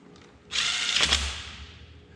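Power tool driving down a bolt, heard as one close, loud whirring burst of about a second that rises sharply and then tails off, with no talk.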